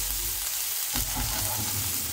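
Finely chopped onion frying in a pan for a chicken sizzler with rice, a dense continuous sizzle heard close, with a brief stir partway through.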